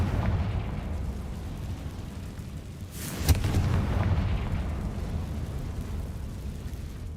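A fire-spell blast in Hogwarts Legacy lands as a single deep, booming explosion with a sharp crack at its onset, rolling over a constant low rumble of game ambience, loud and close, with no talking.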